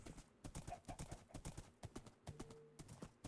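Rapid clip-clop hoofbeats of a Minecraft horse sound in quick rhythmic bursts, fairly faint, with a brief neigh-like tone near the end.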